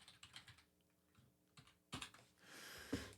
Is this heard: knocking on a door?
no